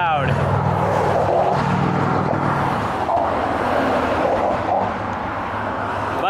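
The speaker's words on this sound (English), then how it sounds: "There's these grates on the road when the cars go by." Road traffic crossing metal grates on the Tacoma Narrows suspension bridge, a loud continuous rumble of passing cars with rough, buzzy flutters as tires roll over the grating, steady throughout.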